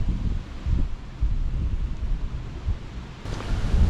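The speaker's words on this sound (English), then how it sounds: "it is extremely windy today" Strong wind buffets a GoPro on top of the old Roman wall in Chester, a steady low rumble of gusts and microphone noise with no clear talk.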